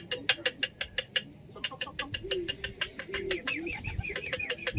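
Soft pigeon coos repeating in low rolling phrases inside a loft, mixed with rapid clicking and fluttering taps close by.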